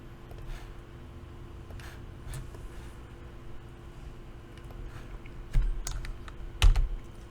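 Keystrokes on a computer keyboard while entering commands during a password brute-force exercise, soft scattered clicks over a steady room hum, with a couple of louder key thumps near the end.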